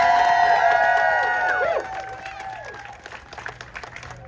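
A crowd at an Arizona disability advocates' rally cheers, whoops and applauds, with high shouts rising over clapping; the noise is loud at first and fades toward the end, with a little speech mixed in.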